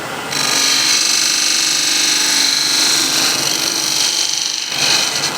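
A wood lathe tool shaves a final cut across a turning wooden bowl, giving a steady, loud hissing scrape that runs nearly unbroken for about five seconds, with a brief dip near the end.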